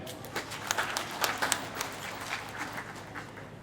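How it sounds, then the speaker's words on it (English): Audience applauding at a graduation ceremony, scattered hand claps rising and falling for a few seconds, fairly faint and distant in a large space. "So please clap for them."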